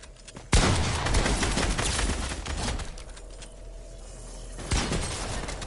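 Sniper gunfire in a video game: two sharp cracks several seconds apart, the first followed by a long noisy rumble of battle sounds, fairly loud with no talk.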